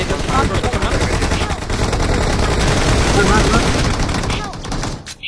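Gunfire in a multiplayer shooter game: a dense, continuous rattle of rapid shots, loud and close, with players talking over it.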